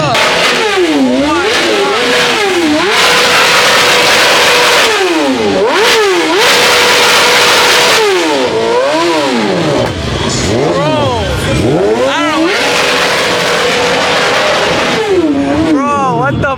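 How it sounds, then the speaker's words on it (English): A BMW E30 with an owner-built engine revs hard and repeatedly at a loud two-step car meet, the sharp rising and falling engine notes filling the scene while people shout and talk over it. "driving the homie's E30."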